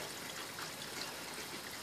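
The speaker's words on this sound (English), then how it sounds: "You can hear the water coming through the P-trap." Water runs through a plastic sink P-trap under a sink, a soft, continuous trickling rush that stays faint and even throughout, with no speech.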